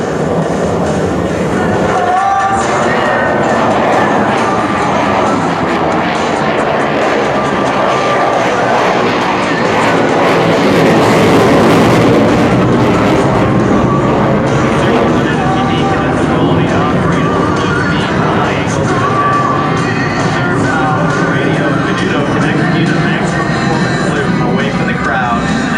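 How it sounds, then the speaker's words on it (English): A Boeing F/A-18F Super Hornet roars overhead during an airshow demonstration, its loud jet noise swelling and sweeping steadily for nearly half a minute as the aircraft maneuvers. "Outstanding pitch authority as the aircraft rolls upright, performs an abrupt nose-up maneuver followed by a quick pushover."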